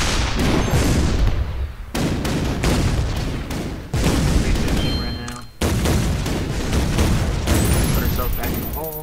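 Repeated booming weapon blasts from the Mini V in the artillery game ShellShock Live, several loud bursts in quick succession with brief gaps, ending in a rising synthetic chime.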